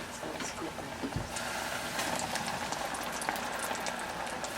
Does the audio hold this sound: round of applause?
no